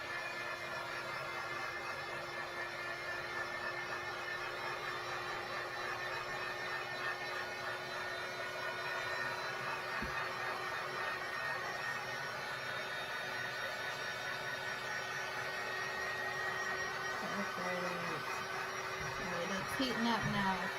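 A heat tool blows steadily while drying water-based paint on a wooden cutting board, a continuous close whooshing drone with a faint whine that runs throughout at a constant level.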